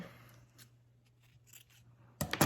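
Scissors trimming a piece of paper for a junk journal: faint rustling handling at first, then a sharp burst of close, crisp snips at the end.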